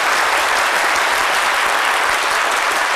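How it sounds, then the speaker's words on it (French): A television studio audience on a midday talk show breaks into loud, dense applause honoring the people of Burkina Faso, a continuous roar of many hands clapping close up with no talk over it. "on applaudit très fort pour le peuple burkinabé"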